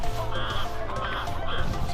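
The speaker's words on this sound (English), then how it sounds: "There's all these big ass geese around here." Several geese honk in short, nasal calls at a waterside in Munich, a few separate honks over a steady outdoor background wash.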